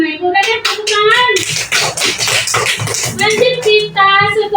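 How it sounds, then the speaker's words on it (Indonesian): Schoolchildren in a classroom clap together in a lively burst lasting a couple of seconds, loud and close, with a teacher's voice speaking just before and after. "Semangat anak ibu dan tepuk tangan"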